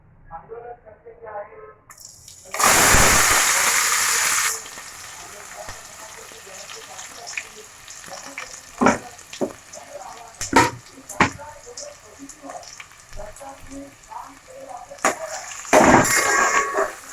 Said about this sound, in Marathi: आता तेजपत्ता टाकल्यानंतर लगेच काय करूया कांदा टाकून घेऊया